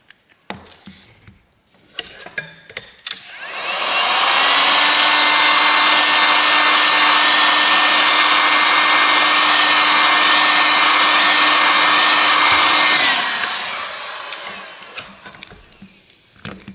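A heat gun blows steadily on a Samsung Galaxy A36 phone to loosen its cracked screen, a loud, even whirring hiss with a faint tonal whine that runs for about nine seconds, then winds down among light handling clicks.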